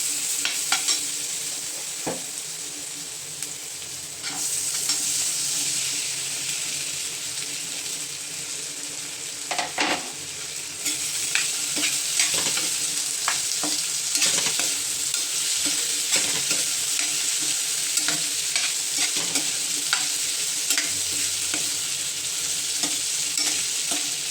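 Potatoes sautéing in hot oil with coriander leaves for a tomato-potato bhaji, a steady bright sizzle throughout with frequent spoon scrapes and stirring knocks, close and fairly loud, no voices.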